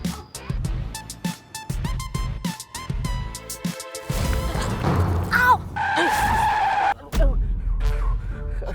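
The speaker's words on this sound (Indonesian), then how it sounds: "Kok ngerem mendadak kayak gitu?" A car brakes hard and its tires skid with a loud, drawn-out squeal and screech, preceded by short bursts of engine and road noise, then a brief pause and rumbling afterward; faint voices sit in the background.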